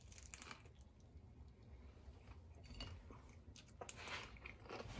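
Crunchy bites of a fried chicken satay rangoon dipped in spicy peanut sauce, with crackly chewing bursts recurring close up across a few seconds, fairly quiet, no talking.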